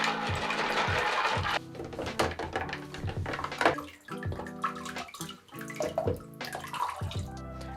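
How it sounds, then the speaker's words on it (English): Water splashes and sloshes steadily as ceramic ring media from a turtle tank canister filter is rinsed by hand in a container, with uneven bursts of agitation and dripping close by. "I'm kind of washing it first in this filter media before going to a second level of rinsing inside of the tank water."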